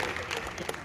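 Audience applause at a Hindi hasya kavi sammelan poetry recital at IIT Kanpur, a dense steady patter of many hands clapping for under a second, fairly close and even in loudness.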